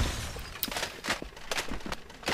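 Rapid crackling bursts from Needler shots exploding against Hunters in the Halo: Combat Evolved game, a dense series of sharp shattering pops and small explosions in quick irregular succession, moderately loud.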